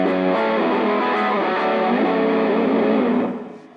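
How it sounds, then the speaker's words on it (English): Bass guitar played through a Fish distortion circuit in a band's live rig gives a thick, fuzzy, sustained tone, loud and alone for about three seconds before fading. "so this is the fish distortion"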